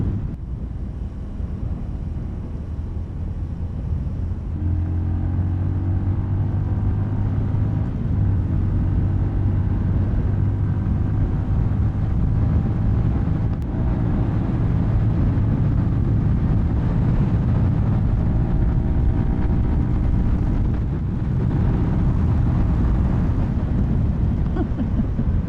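A 2024 CFMoto 300NK motorcycle engine drones steadily while riding, a low humming note shifting slightly in pitch under constant wind buffeting the microphone, with no talk.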